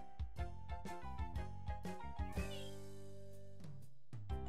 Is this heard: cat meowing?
yes